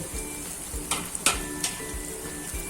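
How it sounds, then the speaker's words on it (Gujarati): Carrots, cabbage and sliced chili are stirred into leftover roti noodles in a hot pan over a low gas flame. There is a soft steady sizzle, with a few faint scraping stirs and no talk. "આ બધું આપણે આ રીતના પેલા મિક્સ કરી દઈશું"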